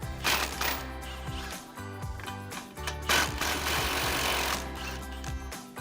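Impact wrench with an 18mm socket removing the lower strut mount nuts on a 2021-2024 Ford Bronco, two long loud buzzing bursts of rattling hammering, close by with a short pause between them.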